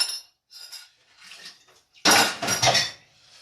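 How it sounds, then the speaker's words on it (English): Pots and dishes knock and clink in a sink while a pot is washed out, a few light scattered clatters followed by a louder burst of running water and metal rattling near the end. "Gotta wash out this pot."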